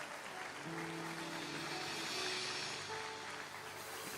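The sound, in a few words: church congregation applauding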